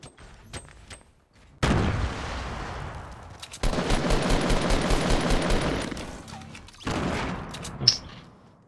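Fortnite gunfire comes in loud rapid bursts, a long stretch of fast automatic shots followed by another shorter burst, with quieter single pops and a sharp crack near the end.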